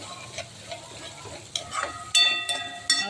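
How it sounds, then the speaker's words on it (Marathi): A spoon stirs gram flour into eggplant curry frying in a pan, with soft sizzling and a few sharp scrapes and clinks against the pan, close and brief. "आता इथे आपल्याला थोडंसं बेसन ॲड करून घ्यायचं आहे हलवून घ्यायचं आपल्याला व्यवस्थित"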